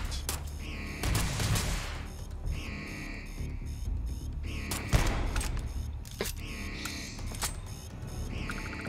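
Energy weapon gunfire in Starfield rings out in repeated sharp bursts, with loud shots near the start and middle and lighter volleys trailing off, over a steady game background.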